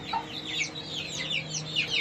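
A tiny rooster with an oversized tail clucks nearby in a quick run of short, bright calls, steady and moderately loud over a low background hum.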